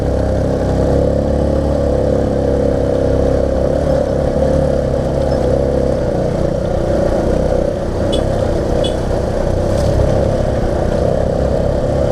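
A Kawasaki KLX150 trail motorcycle runs continuously while being ridden through the countryside on Nusakambangan, its engine a loud, steady, close drone with slight rises in pitch and no break.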